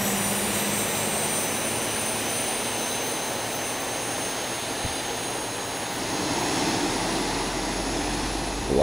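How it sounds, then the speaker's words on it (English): Boeing 737-800 jet engines idling in the X-Plane 11 flight simulator at Las Vegas, a steady loud broadband roar with a high whine, continuous throughout and no talk. "And our engines are started up, so we will go to engine generators."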